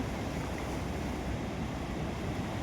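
Water rushing out of the opened gates of Hippargi barrage near Jamkhandi makes a steady, dense roar with no pause, wind buffeting the microphone, and no voices.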